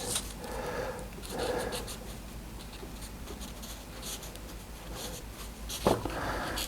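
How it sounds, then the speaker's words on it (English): A pen scratches across paper in short bursts of strokes with brief pauses between them, close and quiet, with a small tap near the end. "I'll grab a pen and I'm just going to write"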